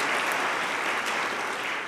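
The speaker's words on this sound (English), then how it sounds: "a round of applause to the Beckman Foundation" Applause from a concert audience in Idaho Falls, a dense steady wash of many hands clapping at moderate volume, continuous and unbroken for about two seconds with no voices on top.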